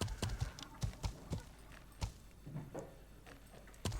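A horse's hooves clip-clop in the medieval video game Life is Feudal, a run of faint, irregular thuds with a few pauses and a final pair of steps.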